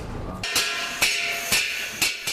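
Iron cauldron struck four times at an even pace, each hit a bright, close metallic clang that rings briefly and fades before the next strike.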